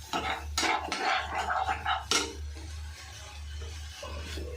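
A spoon scrapes and clinks in a pan over a low flame while ginger, cumin, chilli and garlic pastes are stirred, giving a few sharp metallic knocks and soft rubbing scrapes, close, over a steady low hum and without talk.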